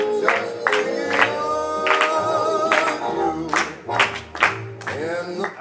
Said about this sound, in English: so what beats was I clapping?